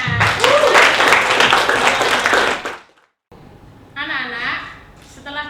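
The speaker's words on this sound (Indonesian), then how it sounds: "Tepuk tangan." A group of people clap together in a classroom-style setting for about two and a half seconds. The applause then drops to near silence, and faint voices and some clatter follow.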